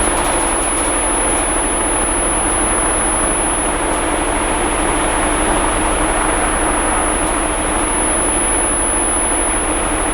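A homemade wind generator's propeller spinning steadily, with a continuous broadband whoosh and hum and a constant high whine running through the whole stretch, loud and unbroken with no talk.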